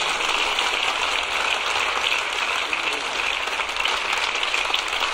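An audience applauds at a 2022 medal ceremony of the city of Chelles. Sustained, even clapping with a rain-like patter fills the room steadily, without speech over it.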